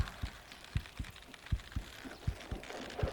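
A hooked bass's heartbeat in Bassmaster Fishing 2022, soft low thumps pulsing steadily about twice a second, a slow, even rhythm over faint background hiss.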